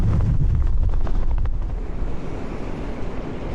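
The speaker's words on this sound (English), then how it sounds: "one of the worst corners in Blackpool for wind funneling" Storm Pia's gale funnelling around a building corner in Blackpool roars as a dense, buffeting rush of wind across the microphone, constant and loud throughout.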